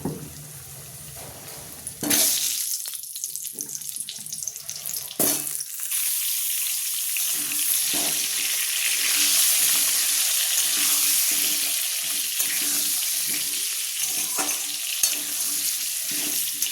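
Potato pieces coated with turmeric fry in hot oil in a pan for a mutton curry, giving a strong, continuous sizzle with a few sharp bursts early on and occasional stirring scrapes.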